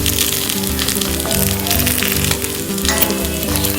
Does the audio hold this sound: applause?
no